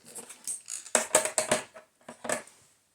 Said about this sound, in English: let me just get that with my scissors